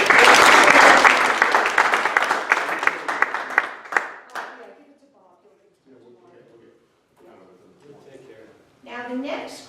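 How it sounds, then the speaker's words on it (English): Loud community-meeting applause with sharp individual claps, fading out after about four seconds, followed by a voice talking quietly. "So let's give them a round of applause."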